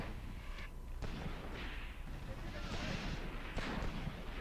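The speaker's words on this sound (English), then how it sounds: "Come on, throw nades into these positions." Grenade explosions in the World War II tactics game Graviteam Tactics, set around Kharkov in 1942: heavy booms and rumbling blasts that roll on over constant battle noise, with a voice talking over them.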